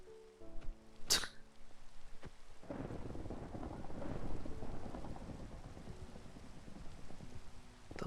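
Thunder and rain during a storm in the video game Minecraft, with a sharp crack followed by a long, low rumble that rolls over steady rainfall.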